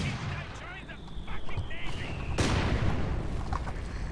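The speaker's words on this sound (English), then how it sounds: "that mortar is doing some real damage" Mortar and artillery fire in the Company of Heroes 2 open beta, continuous battlefield booms and gunfire with a loud blast midway, while a whistling tone fades out before it.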